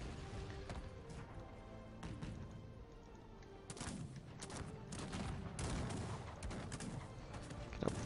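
Cannon and howitzer fire in a Cossacks 3 battle, heavy booms and crackling volleys rolling continuously under a dense battlefield din, with a bird-like chirp here and there.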